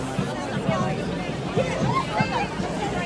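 Crowd babble at an anti-mandate, anti-lockdown protest in Sydney's Hyde Park: a dense, steady murmur of many voices all around, with a nearby speaker's voice rising above the hubbub at moments.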